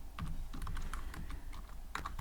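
Python code typed on a computer keyboard, a quick close run of crisp key clicks at an irregular pace, with no voice over it.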